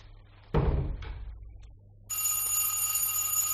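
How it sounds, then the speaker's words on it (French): After a door slams shut and a brief quiet, a telephone starts ringing indoors, a steady bright bell tone that continues alone to the end. "Téléphone. Laisse André, j'y vais."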